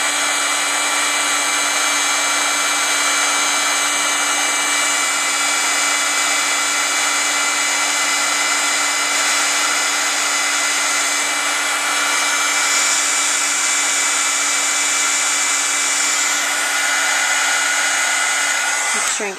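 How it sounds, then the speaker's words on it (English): A craft heat tool blows hot air over green embossing powder on a birthday bow, making a steady, close whirring hiss that runs unbroken for about twenty seconds with no talk. "I'm going to use our heat tool, and I'm going to heat it."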